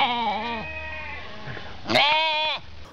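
A sheep bleats at a sheep hotel, a boarding facility for livestock, giving a long wavering cry followed by a sharper second bleat close to the microphone over low background noise.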